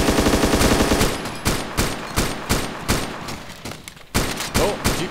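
Rapid bursts of automatic gunfire in ARMA 2 DayZ Epoch, loud and close, with repeated sharp shots at irregular intervals and a brief lull before the firing resumes.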